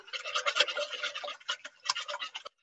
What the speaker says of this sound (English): I've got 4 eggs in here, and I'm just going to whisk them.